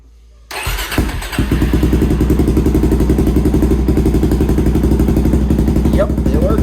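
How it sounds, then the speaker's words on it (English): A Suzuki DRZ400SM motorcycle with a kickstand switch modification fires up with its kickstand down, catching after a brief crank and settling into a loud, steady, close idle with rhythmic mechanical clatter. "Let's fire it up with the kickstand down."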